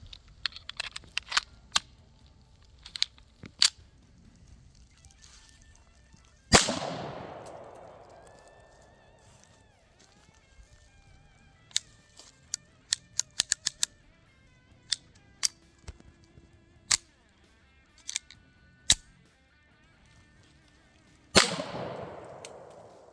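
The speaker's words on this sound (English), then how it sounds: "let's squeeze the trigger on this one and see how it does" A Japanese Type 14 Nambu 8mm pistol from the Taishō era fires two sharp, booming shots on a range, roughly fifteen seconds apart, each followed by a fading echo, with quiet clicks and handling noises in between.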